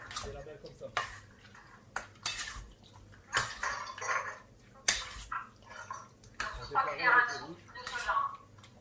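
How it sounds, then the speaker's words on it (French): Chicken being mixed with garlic and lemon juice for a wok: irregular clinks and scrapes of a utensil against a bowl with soft wet squelches, close and fairly faint, amid quiet talking. "On peut commencer à mélanger."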